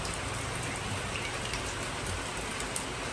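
Steady rain falls outdoors, a dense, even hiss of drops on surfaces continuing without a break, fairly loud and close, with no voices.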